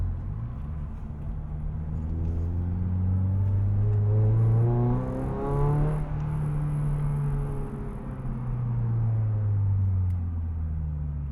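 Aftermarket exhaust on a Toyota GR86 drones steadily while driving, a loud low rumble with engine pitch rising and falling through the run, no talking over it.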